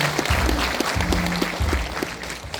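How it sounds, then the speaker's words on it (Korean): Audience applause at a book launch event for an education superintendent candidate, a brief spell of clapping mixed with a low rhythmic background sound. "박수 한번 다시 한번 크게 해주세요"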